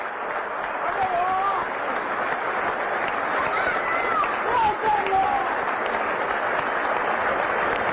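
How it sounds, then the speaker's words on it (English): A large cricket Test crowd gives a sustained standing ovation as Brian Lara reaches his double century against Australia, with steady dense applause and scattered cheers and whistles across the whole stretch, loud and continuous. "Great ovation from the crowd."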